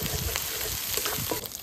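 Garlic, ginger and onion paste frying with spices for potol korma, a dense, close hiss of hot oil with light stirring through the whole short stretch.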